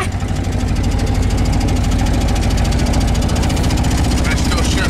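A 1948 Jeep CJ2-A engine pulls away in low gear at night, its loud, steady rumble throbbing with fast regular pulses throughout, close by and dominating the scene.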